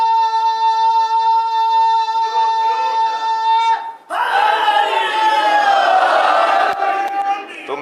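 A large crowd shouts a religious slogan in unison after a long held sung or intoned voice, the massed voices loud and close, swelling and then fading out.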